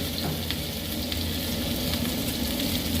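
Chopped onion and green chilli frying in a pan for chilli chicken, a loud, dense, steady sizzle with faint stirring scrapes throughout.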